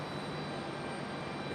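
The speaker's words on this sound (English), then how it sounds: "JetBlue coming in from Boston" A JetBlue jet airliner arriving from Boston through clouds at Raleigh-Durham airport makes a steady, broad engine roar, distant and even, with no other sounds standing out.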